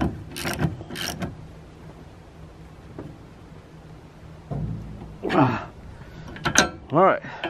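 A wrench tightens a bolt on a Kawasaki KRX 1000 during whip installation: a short burst of ratcheting clicks near the start, then quiet, with later strained grunting or vocal effort over some mechanical scraping.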